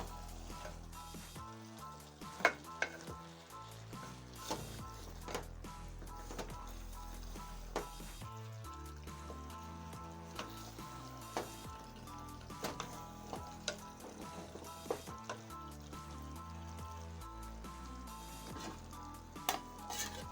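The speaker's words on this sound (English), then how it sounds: "Keep stirring until all the bananas are covered with the mixture." Unripe bananas (matoke) being stirred in a cooking pot with their mixture, giving a steady soft sizzle with scattered spoon scrapes and knocks over a continuous tonal background.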